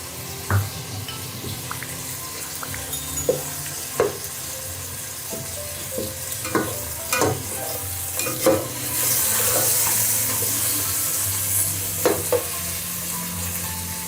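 Ginger garlic paste frying with chicken in a pot of oil, stirred with a utensil that knocks and scrapes repeatedly over a steady sizzle that grows louder partway through.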